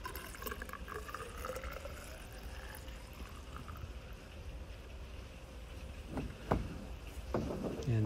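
Screen wash fluid being poured into the washer tank of a Toyota Verso: a steady liquid rush and gurgle runs throughout, with a few sharper splashes and knocks near the end.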